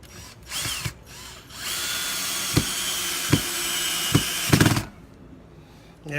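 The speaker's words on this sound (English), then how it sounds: "we pick a drill that's just slightly smaller than the screw we're going to put in diameter" A power drill bores a pilot hole into a door for a security screw, a loud continuous whine running for a few seconds with several sharp clicks, then stopping abruptly.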